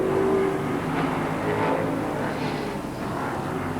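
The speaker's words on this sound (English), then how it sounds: "cars with the 3-litre but very high revving engines" Formula 5000 race cars with high-revving 3-litre engines scream past on the Oran Park circuit, a loud, sustained engine whine that swells and fades as they go by.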